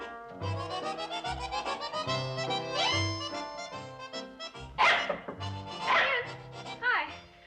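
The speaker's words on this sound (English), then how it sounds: "What's he barking at?" Dog barking at a possum out in the woods, a few sharp barks in short rhythmic groups behind a musical score, with people talking over it.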